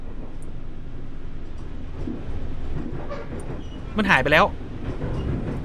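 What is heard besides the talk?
train passing by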